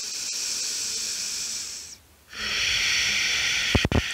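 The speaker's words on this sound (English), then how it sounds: "Take a nice deep breath." A long, steady breath during a gentle yoga session, airy and hissing, drawn in, briefly paused, then released in a second long exhale, close and without talk.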